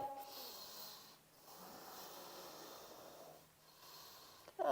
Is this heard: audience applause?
no